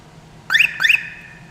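Two short, loud chirps from an Aliexpress aftermarket car alarm with remote start, each a quick rising electronic tone, close by and alone against quiet.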